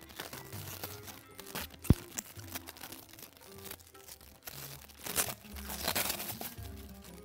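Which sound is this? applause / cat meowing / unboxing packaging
unboxing packaging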